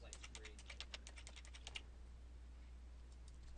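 Someone types a username and password on a computer keyboard: a quick run of crisp, close key clicks in an uneven rhythm for about two seconds, then near quiet with only a few faint taps.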